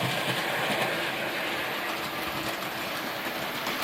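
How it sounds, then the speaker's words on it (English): A Hornby Dublo 3-rail model train runs on its track, a steady close whirring rumble from motor and wheels that stays even throughout with no talking. "try and get the train moving and see if I can get it to go round without, famous last words, without derailing"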